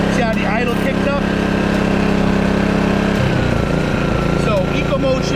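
A gas-powered AIVOLT 4300W portable inverter generator runs steadily at idle, a loud close engine drone with a pitch change partway through as the idle shifts, with someone talking over it.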